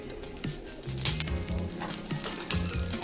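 Dried red and green chillies frying in hot oil for chutney, a steady close crackling sizzle with some stirring scrapes.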